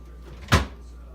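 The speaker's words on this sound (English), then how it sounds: "And I'll put this drawer back in now" A GE Cafe refrigerator drawer pushed back into place gives a single short thud and slide, close and fairly loud, set against a low steady hum.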